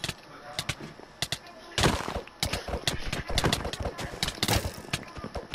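Gunfire in a multiplayer video game, a string of sharp, loud shots and short bursts in irregular rhythm across several seconds, with players' voices faintly in the mix.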